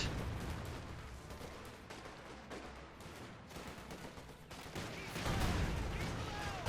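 Gunfire and artillery in a Company of Heroes 2 1v1 match, Wehrmacht against US Forces, a dense, continuous wash of shots and blasts at steady loudness, swelling near the end.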